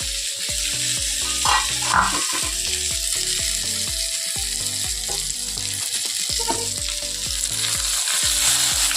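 Fried fish heads going into a curry in a hot pan, with a loud continuous sizzle and bubbling close by, punctuated by a rapid rhythmic knocking, with no voices.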